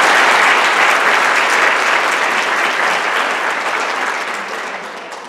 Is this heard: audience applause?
yes